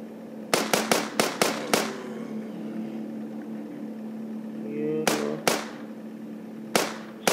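Newly equipped gun firing in The Walking Zombies 2, sharp loud shots in a quick cluster of six, then pairs and single shots later, over a steady droning game background.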